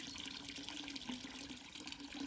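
Water at a natural spring trickles and gurgles steadily, a continuous close, moderately loud wash with no talking.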